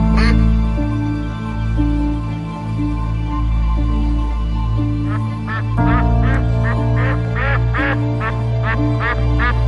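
Ducks quack in a rapid series of calls over steady background sound at a duck hunt in an Alentejo marsh, the quacking growing louder and more repeated in the second half.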